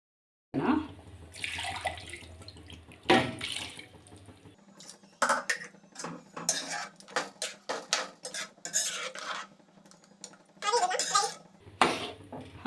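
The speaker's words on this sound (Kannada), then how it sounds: "ಈಗ ಮಿಕ್ಸಿ ಜಾರ್ಗೆ ಸ್ವಲ್ಪ ನೀರು ಹಾಕ್ಕೊಂಡು" Water is poured into a kitchen mixer grinder jar while chilli chicken gravy is cooked, with close splashing and sloshing mixed with clinks and knocks of the jar and utensils in uneven bursts.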